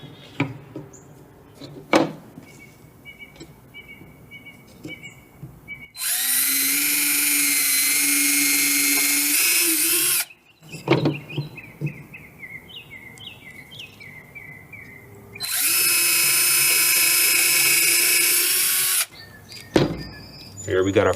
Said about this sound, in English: then you just drill the pieces down into the wood